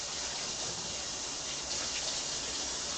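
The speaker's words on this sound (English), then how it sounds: "I'm just going to wash my hands and we'll get that going." Tap water runs steadily into a kitchen sink as hands are washed during pasta meal prep, a continuous close gushing hiss with no pauses across the whole stretch.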